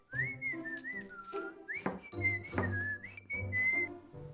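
Someone whistles a lilting melody in a kitchen while making baked onion rings, the clear, fairly soft whistle moving through quick pitch changes, with faint background music beneath it.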